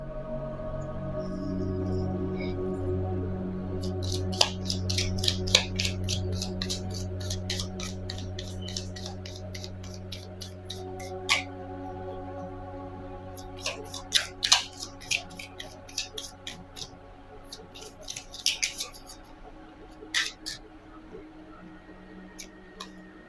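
An angel oracle card deck is shuffled in quick bursts of crisp, close clicking and riffling, separated by pauses. Soft tonal music plays underneath throughout.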